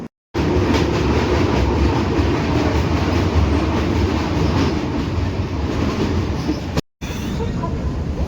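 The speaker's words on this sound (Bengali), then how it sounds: "গাড়ির সিগন্যাল হয়ে গেছে, ট্রেন ছাড়ছে" The Howrah to New Jalpaiguri Shatabdi Express departs, rumbling steadily along the rails with a dense, continuous roar, broken by one brief dropout near the end.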